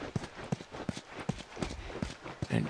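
Horse hooves clip-clop in a steady, evenly spaced rhythm in the video game The Last of Us, a moderate walking gait heard fairly close and at low volume, with no clear speech over it.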